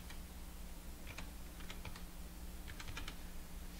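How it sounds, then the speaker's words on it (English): Keys clatter on a computer keyboard as a name is typed, two short bursts of quick clicks over a steady background hum, with no speech. "And we'll type in my name."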